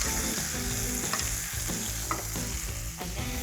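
Steak fries in butter in a pan with a loud, continuous close-up sizzle, punctuated by occasional soft scrapes and taps as the meat is turned, with no voices.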